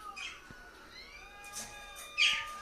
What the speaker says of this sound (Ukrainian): Сашка, пташка. Чи Дашка? Чи Дашка, чи Сашка? Дві пташки